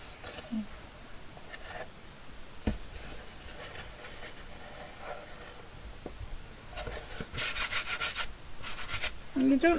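Scraping dust off the pages of a 1924 vintage book with a wooden ruler, soft repeated rubbing and scratching strokes at close range, quiet with occasional taps.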